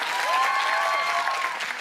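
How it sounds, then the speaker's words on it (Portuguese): Studio audience applause on a television talk show, a steady wash of clapping at even loudness throughout with a faint tonal sound over it. "uma sala de palmas"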